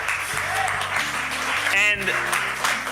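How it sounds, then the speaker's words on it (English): Crowd applause from a played-back speech about Ugandan independence from Britain, a burst of clapping with a voice speaking over part of it, fairly loud and close, with a brief bright tonal blip partway through. "We can clap for that."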